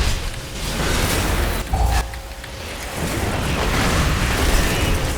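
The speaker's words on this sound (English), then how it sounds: "he's just gonna take him out to fire his cannon" A cannon fires in World of Warcraft, a broad rumbling boom that rolls on for several seconds with a short burst partway through.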